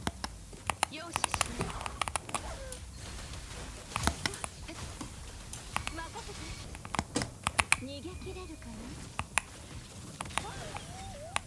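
Rapid, irregular clicking of Keychron mechanical keyboard keys while playing Wuthering Waves, close and crisp, with someone talking quietly underneath.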